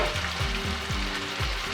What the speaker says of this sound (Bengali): টমেটো পেস্ট এর মধ্যে অ্যাড করছি